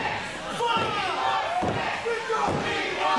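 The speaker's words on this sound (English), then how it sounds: "And listen to the crowd here at the turnbuckle." At a fatal four-way tag team championship wrestling match, an arena crowd cheers and roars steadily, with a few thuds from the ring, beneath a commentator's talk.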